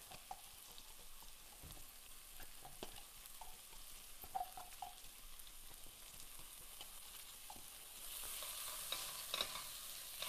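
Garlic and ginger sautéing in ghee, a gentle continuous sizzle with intermittent stirring taps and scrapes close up, growing a little brighter and louder toward the end.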